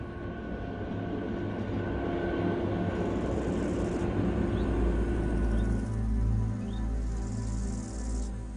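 A train on a railway line descending a winding mountain route toward Poschiavo, its steady rumble and wheel noise rolling on continuously and fairly close, with faint high squeals from the rails near the end.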